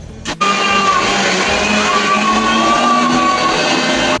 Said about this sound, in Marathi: तोपर्यंत आपल्याला हे मिक्सर फिरवायचं आहे